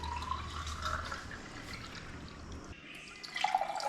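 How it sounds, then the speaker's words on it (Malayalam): Cucumber spiced buttermilk is poured into a glass, giving a soft continuous liquid trickle and faint dripping over low background hum. "ഗ്ലാസ്സിലേക്ക് ഒഴിക്ക്, ഊത്ത്."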